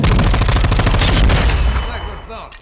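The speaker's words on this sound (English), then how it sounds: "There's more guys shooting me from this side and that side." Enemy gunfire in Call of Duty multiplayer on the Himmelmatt Expo map, a loud continuous barrage of overlapping automatic shots and booms that tapers off at the end.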